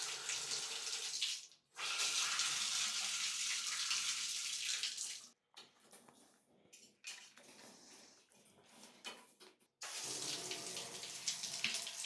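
Hot water gushes from a tap in an old house, a loud steady rush that cuts off briefly, returns, then falls to quieter trickles and splashes before flowing strongly again.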